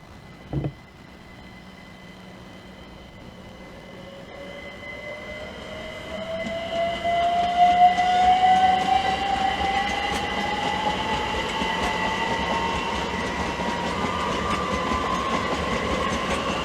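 A Class 387 electric train pulls away from Hitchin station on the East Coast Main Line, a rising motor whine climbing steadily over rumbling wheels, growing louder and holding close at the platform, with a brief clunk early on.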